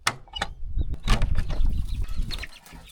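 Chickens stir and flap their wings in a coop that holds fifteen birds, giving a short burst of close feather flutters and scuffling with faint clucks mixed in.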